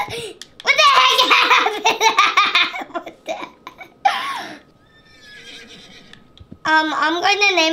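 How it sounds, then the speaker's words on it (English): A horse in the Roblox game Escape the Castle of Robloxia neighs in a loud, shrill whinny among excited laughter and shouting voices, with synthetic game-like tones in the background. "I'm going to name my horse Omen."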